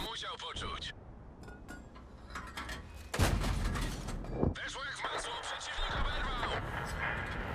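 A tank cannon firing in World of Tanks, from the Strv 74: one deep, booming shot midway, then a second report shortly after, amid mechanical clanks, engine rumble and someone talking.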